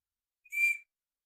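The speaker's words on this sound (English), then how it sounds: "The whistle" A small whistle from a get-home pouch gives one short, shrill, piercing blast of about a third of a second, clear and close against silence.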